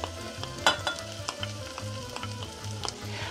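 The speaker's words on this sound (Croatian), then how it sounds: "Sipamo ulja da pokrije dno i prvo na prženje ide luk." Onions and carrots frying in oil, a continuous close sizzle with scattered small pops and crackles.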